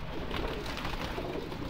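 A flock of about fifty pigeons coos in a dense, continuous chorus that sounds close and fairly loud, with no talking.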